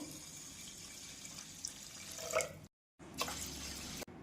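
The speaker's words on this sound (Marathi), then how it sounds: "आता यात पाणी टाकू" Water pours into a bowl of rinsed rice being set to soak, a steady faint trickle with a few drips, broken by a short silent gap before the pouring resumes.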